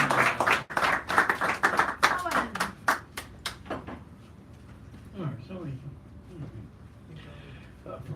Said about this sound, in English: little round of applause for him, get him started